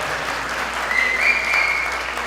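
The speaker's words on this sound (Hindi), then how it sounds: "आपकी तालियों की गूंज" A live audience applauds with steady, dense clapping that holds at an even level throughout, with no voices over it.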